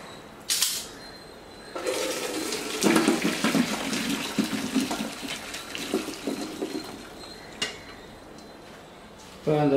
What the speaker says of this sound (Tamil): அடுப்பை ஆஃப் பண்ணிவிட்டு இதை அப்படியே வந்து இந்த தண்ணியை ட்ரெயின் பண்ணணும்.